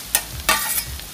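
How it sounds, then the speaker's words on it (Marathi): Tomatoes, onions and green chillies sautéed in a pan for Goan chicken chilli, a hissing sizzle with two quick spatula scrapes over about a second. "बरें अशें परतून घेवपाचें"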